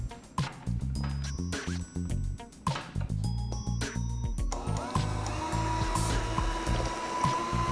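An electric mixer beats chocolate cupcake batter with vanilla at medium speed, giving a steady, close whirring drone that runs throughout and grows rougher and louder partway through.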